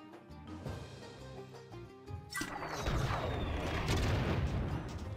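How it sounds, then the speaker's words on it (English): A bomb goes off in the Spyro video game: a soft musical passage cuts to a sudden loud blast that swells into a sustained, rumbling roar of debris lasting several seconds. "I hurt myself with the bomb."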